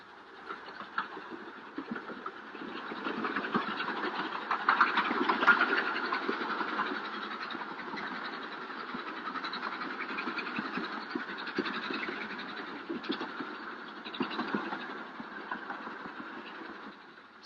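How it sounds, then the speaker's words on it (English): A Darjeeling mountain train climbs through hill country, giving off a steady muffled rumble and engine drone with scattered clicks, moderately loud and continuous, in an old, band-limited recording. "the train winds its way up through the mountains"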